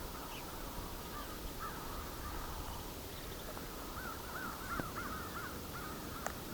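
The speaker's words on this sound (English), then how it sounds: "There's a flock of, I don't know, 70 or so crows nearby here too." A flock of about seventy crows caws from a distance along a snowy rural road, scattered hoarse calls over steady wind and rustling noise.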